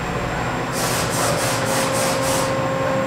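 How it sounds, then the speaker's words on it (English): Reamer turned slowly through a hole in metal, a run of about six soft, regular scraping strokes over a steady mechanical background hum, close and fairly quiet. "So here I am reaming the hole"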